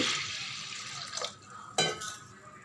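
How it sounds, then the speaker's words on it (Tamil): Water poured from a tumbler into a pot of soaked black horse gram, a steady splashing pour that stops, then a brief second splash and pot sounds, close and alone. "இதுக்கு வந்து மூணு டம்ளர் அளவுக்கு தண்ணி ஊற்றி"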